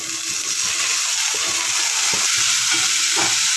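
Boiled ingredients fry in a hot pan with a loud, continuous sizzle and a few soft stirring scrapes, close up with no talking.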